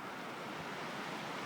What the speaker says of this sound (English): And extremely windy, if you can hear that.